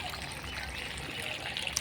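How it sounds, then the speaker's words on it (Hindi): Water poured onto onion plants in a field makes a soft, continuous trickle and splash, fairly faint and unbroken from start to finish. "इस प्याज में पानी दे रहे हैं"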